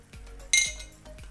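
Metal spoon clinking and scraping against a pan while stirring cut shallots, a few light clinks with one brighter clatter, close and alone.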